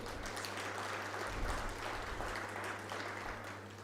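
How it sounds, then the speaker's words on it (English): Guests at the Nairobi Legal Awards 2021 give the LSK branch council a faint, distant round of applause. Steady soft clapping sits over a low hum from the hall's sound system. "just give them a round of applause"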